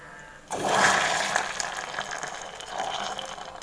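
Hot caramelized sugar is poured into milk for a jigarthanda drink, giving a sudden steady rushing, hissing liquid sound that starts abruptly and continues close and fairly loud throughout, with no voices.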